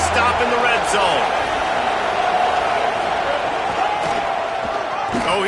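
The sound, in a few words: football stadium crowd cheering during a red zone stand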